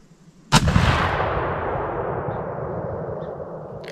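A CVA Optima LR muzzleloader rifle fires a single loud shot outdoors. A sharp crack is followed by a long booming echo that fades over several seconds.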